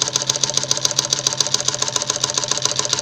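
A Singer 114w103 industrial sewing machine starting a stitch, running with a fast, even mechanical clatter of rapid repeated needle strokes, close and steady throughout.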